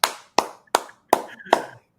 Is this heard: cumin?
no